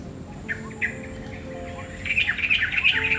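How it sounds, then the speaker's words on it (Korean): Bright bird chirps and calls at a beach resort in Sanur, Bali, a few scattered at first, then a busier burst of rapid twittering toward the end over a steady outdoor background. "새소리가 아주 아름답습니다"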